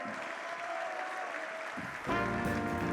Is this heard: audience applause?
yes